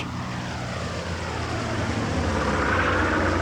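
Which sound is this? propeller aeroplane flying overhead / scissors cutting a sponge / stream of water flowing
propeller aeroplane flying overhead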